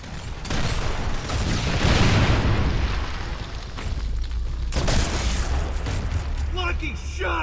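Heavy gunfire and booming explosions from Gears of War roll on almost without pause, loud and dense, with shouting voices mixed in.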